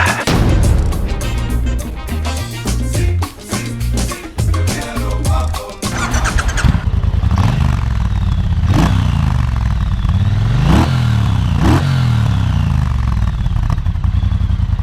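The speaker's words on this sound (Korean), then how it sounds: "트라이엄프 본네빌 바보 타보고 있습니다." Triumph Bonneville Bobber motorcycle engine revving loudly, opening with a busy clattering burst and then settling into a steady roar cut by several sharp throttle blips, close and alone with no voices.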